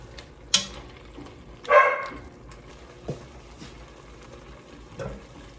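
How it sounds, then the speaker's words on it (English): A few sharp dog barks ring out at intervals from the background, over a low bubbling, simmering hiss of a one-pot pasta cooking in chicken broth. "as you heard, Asahi was barking quite a bit in the background"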